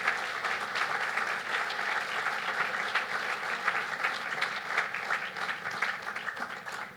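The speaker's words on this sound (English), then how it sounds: "let's give another round of applause to all who took care of us this morning" Sustained applause from an audience at a hospital cancer center ribbon cutting ceremony, dense steady clapping that fills the whole stretch without a break and with no voices over it.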